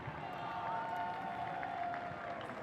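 A crowd at a high school varsity baseball game cheers and claps for teachers, a steady distant wash of applause heard faintly in the open air.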